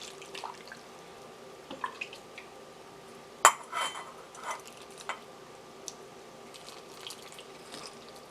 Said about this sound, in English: we're going to pour our brine over our jars.